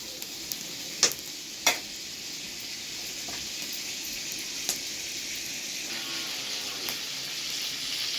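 Ghee heats in a kadhai for dal, giving off a steady close sizzle with a few sharp clinks and pops throughout, and no voices.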